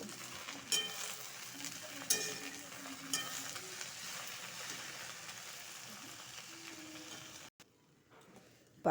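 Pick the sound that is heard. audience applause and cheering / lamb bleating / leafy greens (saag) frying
leafy greens (saag) frying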